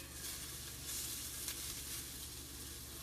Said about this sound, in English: I just stir fry those just like you would rice noodles or any other type of stir fry.